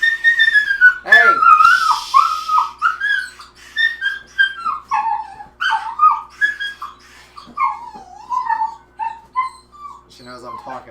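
A small female dog whines and yips in a long, wavering string of high, squeaky cries, rising and falling almost like whistling, close and fairly loud, with a brief low murmur near the end.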